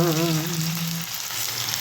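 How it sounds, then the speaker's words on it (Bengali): Onion frying in a pan for a Bengali kalmi shak dish, a steady broadband sizzle that runs throughout; a brief sustained musical tone, like a held note from background music, overlaps the first second before fading. "পেঁয়াজটা ভাজা ভাজা হয়ে গেছে"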